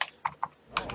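Brief burst of computer keyboard typing in a space strategy game session, a few distinct close key clicks with a quick cluster at the end, no voices.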